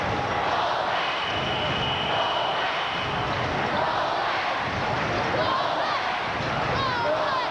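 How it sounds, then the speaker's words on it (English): A basketball arena crowd roars and cheers through a 2001 World Cup qualifier between New Zealand's Tall Blacks and Australia, a sustained loud din under a commentator's voice. "Listen to the crowd."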